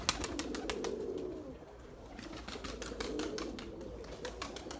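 Pigeons coo softly at a loft, their low burbling calls repeating over a sharp, rapid rustle of wings or feet, faint and close.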